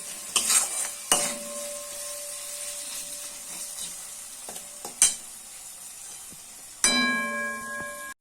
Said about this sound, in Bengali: এবার এটা আমি ভালো করে নাড়িয়ে নেবো।